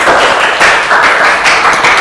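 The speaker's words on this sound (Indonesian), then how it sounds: "Beri tepuk tangan untuk kelompok syuro" A classroom of students applauds a presenting group in a dense, loud burst of clapping that runs through the whole moment, with no voices on top.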